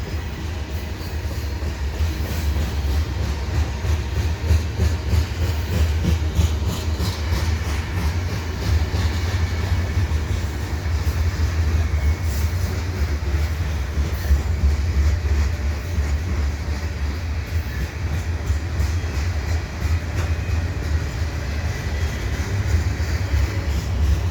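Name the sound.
freight train with three engines hauling grain hopper cars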